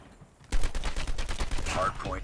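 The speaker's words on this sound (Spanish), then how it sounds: "Creo que le disparé a un compañero" Gunfire in the video game Call of Duty Mobile, a sudden burst of rapid shots that starts after a quiet moment and continues as a dense volley through the short clip.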